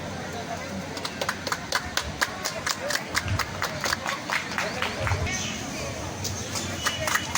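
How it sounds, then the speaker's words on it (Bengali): A crowd at a formal gathering breaks into scattered, uneven clapping, with sharp individual claps rising and fading over several seconds amid a murmuring room. "আমরা সবার কাছ থেকে করতালি চেয়ে নিচ্ছি।"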